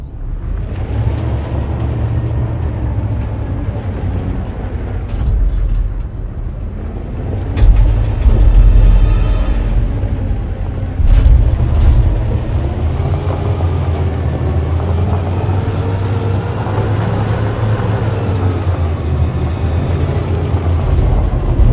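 Heavy truck engine in a video game, a steady low diesel rumble throughout with several sharp hissing air brake releases and rising tones, loud and close with no talking.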